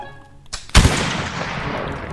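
A single sharp rifle shot in Roblox Blood And Iron, loud and close, following a softer earlier crack and trailing off into a long echoing decay.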